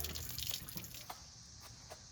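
Rusty water draining from an engine during a timing job, a faint steady trickle and splash with a few soft drips, heard alone at low level.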